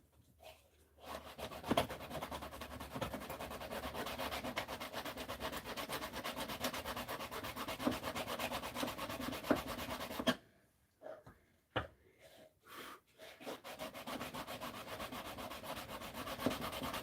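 Sandpaper rubs steadily back and forth across a surface, with a continuous gritty scratching that breaks off briefly and resumes in shorter strokes near the end; no talking.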